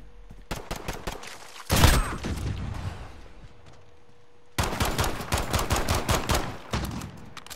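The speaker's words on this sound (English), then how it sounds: "Taking fire! These guns are dumb." Rapid automatic gunfire in Call of Duty: Modern Warfare 2v2 play, with a loud burst, a short quiet gap, then a long run of close, sharp shots.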